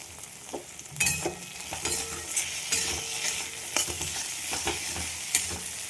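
Grated ginger and a green chili fry in a pan for chowmein, a soft steady sizzle broken by scraping spoon stirs and a few clinks, close and quiet, with nobody speaking.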